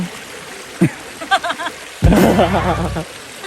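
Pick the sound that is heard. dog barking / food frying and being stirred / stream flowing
stream flowing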